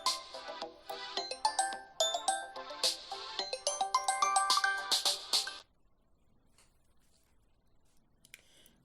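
A bright electronic ringtone melody plays repeatedly for several seconds, then cuts off abruptly into near silence.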